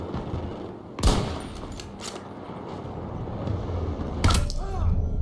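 Sniper fire in the video game Battlefield 2042 cracks out twice, each sharp shot standing above a rumbling battlefield background while a player talks.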